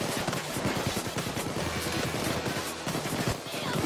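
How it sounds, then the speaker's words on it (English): Rapid automatic gunfire in the heist shooter Payday 2, a dense rattling stream of shots from several weapons, loud and continuous throughout the short stretch. "I'm more worried about the bullets in general."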